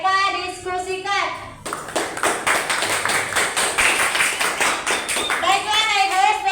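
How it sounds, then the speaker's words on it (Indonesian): A class of schoolchildren applauding a group after its presentation, a burst of many small hands clapping quickly and unevenly, loud and close, with a voice speaking before and after the clapping. "mari kita berikan aplaus untuk kelompok 1"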